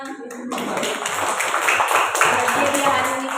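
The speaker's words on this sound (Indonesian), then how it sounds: "Tepuk tangan" Children and a teacher clap their hands in a classroom, a fairly loud burst of mixed clapping that starts after a brief pause, with voices mingling in.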